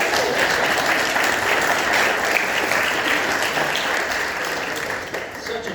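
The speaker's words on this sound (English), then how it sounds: "I thought it was deserving of an applause" An audience at a school district board meeting applauds with steady, dense clapping that fills the room throughout and gradually tapers near the end.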